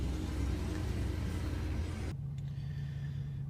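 A 2007 Dodge Charger R/T's engine rumbles loud and low while driving, a heavy steady drone that drops abruptly to a quieter hum partway through.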